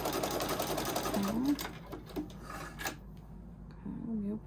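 Sewing machine stitching quilt seams, nested with a stiletto, in quick mechanical bursts that stop and restart, close by, with a person talking over parts of it.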